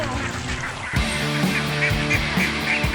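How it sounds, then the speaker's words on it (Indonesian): Ducks quack and honk loudly in a flooded rice paddy beside their pen on Java, several birds calling in overlapping bursts while they swim and forage. "Bebeknya langsung berenang karena mereka mau cari makan."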